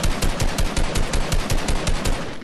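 Rapid automatic gunfire in a video game, loud and close, with evenly spaced shots in a steady rattling burst.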